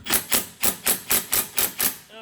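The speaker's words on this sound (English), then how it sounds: "Now I'll begin hammering." Hammer blows strike a rusted bolt on the brake caliper of a 2017 Nissan Qashqai, seven evenly spaced, sharp metallic hits close up, followed by a short ringing tail.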